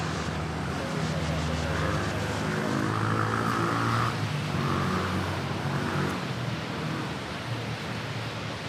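A KLM Boeing 777 takes off from Manila Airport, a steady broad jet-engine roar that swells slightly mid-clip and then eases, continuous throughout, with faint voices underneath.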